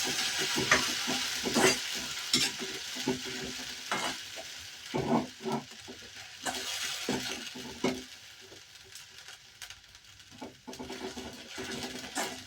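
A ground paste of ginger, garlic, green chili and cumin frying in oil, a soft sizzle punctuated by frequent irregular spatula scrapes and stirs close by.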